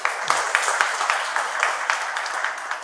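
Audience at the close of a financial wellness training session by an HDFC Mutual Funds speaker claps steadily, a room of scattered hand claps forming continuous moderate applause with a few sharper individual claps near the start.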